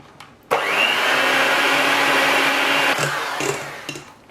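An electric mixer whirs at high speed through sour cream mixed with powdered sugar and vanilla extract, starting abruptly, holding a steady loud buzz for about two and a half seconds, then cutting off with a few faint clicks.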